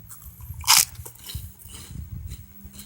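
A single crisp bite into a crunchy knockoff pizza-flavored snack puff, a loud sharp crunch followed by softer chewing and crackling over a low background hum.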